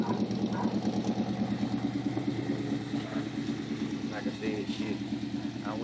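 The motor of a box Chevy car idles with a rough, even throb close by, while someone talks over it throughout.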